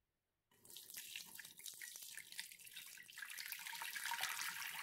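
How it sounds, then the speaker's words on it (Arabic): Hot water pours into a pot while couscous is being cooked, starting suddenly after a moment of silence as a steady, close splashing stream that grows slightly fuller and louder as it continues. "والماء الساخن."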